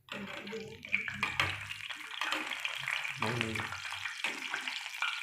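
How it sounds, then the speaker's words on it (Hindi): Potatoes cook in ghee over a low flame, giving a gentle continuous sizzle with soft bubbling and occasional utensil clinks. "अब हमने इसको पकने देना है, हल्की आंच पे पकने देना"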